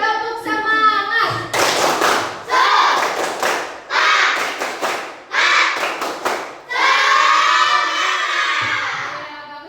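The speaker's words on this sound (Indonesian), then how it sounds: "Ayo, tepuk semangat." A classroom of students claps a rhythmic spirit clap in unison, bursts of sharp hand claps alternating with chanted group voices, ending in a sustained shout.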